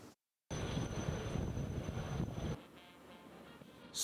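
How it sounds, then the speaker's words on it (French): Wind gusts across the parade ground of the Koulikoro interarms military school in Mali, a dense, rumbling buffet of air on the microphone that drops to a softer hiss partway through. "soufflait ce vendredi matin un vent à géométrie variable, tantôt frais, tantôt chaud"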